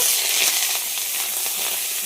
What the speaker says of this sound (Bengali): তেলটা গরম হয়ে গেছে এবার ফুলকপিগুলোকে দিয়ে দেবো ভাজার জন্য